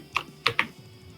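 A few crisp computer keyboard keystrokes, one isolated tap followed by a quick pair, close and fairly quiet in a still room during a Celeste level design panel.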